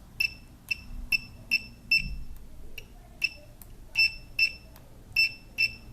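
Extech 330 multimeter continuity tester giving a series of short, clear electronic beeps in an irregular pattern, close and alone apart from faint handling noise.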